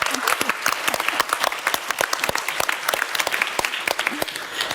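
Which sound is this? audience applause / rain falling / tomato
audience applause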